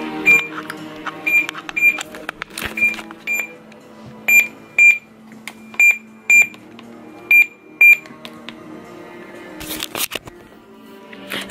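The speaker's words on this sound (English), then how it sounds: "that alarm has been going off for an hour" An electronic alarm beeps over and over in quick pairs with a steady rhythm, alongside scattered clatter and rustling nearby.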